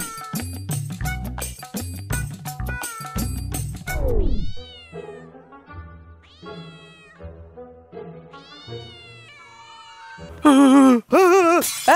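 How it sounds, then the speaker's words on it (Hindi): A black cat meows repeatedly in drawn-out, rising and falling cries, starting after an opening stretch of loud music and ending with one louder, higher wail. "काली बिल्ली ने मेरा रास्ता काट लिया यार"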